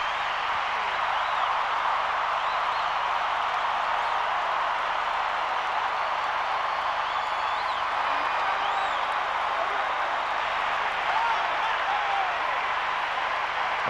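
A large arena crowd at the 1996 Atlanta Olympics women's gymnastics event finals applauding a gymnast, a dense, sustained roar of clapping and cheering heard from within the stands, with faint whistles and no breaks.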